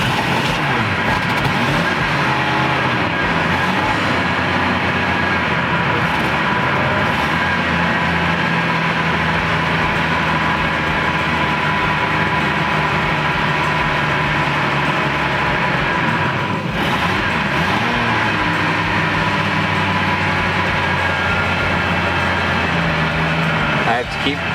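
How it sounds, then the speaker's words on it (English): A Jeep Cherokee engine cranks and runs roughly, a loud continuous mechanical rumble with uneven surges and dips as it struggles to keep going, with people talking over it at times. "Let's see if she'll start up."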